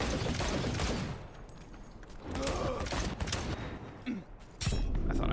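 Dense gunfire from Cyberpunk 2077 combat, a loud continuous barrage with mechanical clatter that briefly eases and then resumes.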